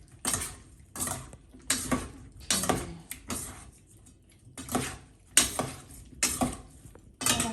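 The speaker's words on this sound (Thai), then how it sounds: "แล้วเราก็จะทำการคลุกเคล้าให้เข้ากันแ บบนี้นะเพื่อน" Utensils clink and scrape against a bowl in repeated rhythmic strokes as a Chinese-style cucumber salad is tossed with chili paste, close up with short pauses between each mix.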